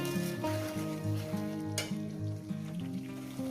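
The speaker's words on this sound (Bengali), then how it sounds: "আমি কেমন করে কষাচ্ছি আপনাদের সঙ্গে দেখাচ্ছি এইভাবে একটু কষিয়ে নেব" Katla fish curry sizzles in a pan while being stir-fried, a steady hiss punctuated by regular scraping strokes of a spatula every half second or so, close and alone without voices.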